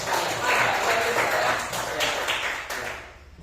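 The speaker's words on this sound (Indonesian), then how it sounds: "tepuk tangan dulu buat teman kita ya" A classroom of children applauds a classmate during a Catholic religion lesson, a steady, dense clatter of many hands that holds for several seconds before easing off.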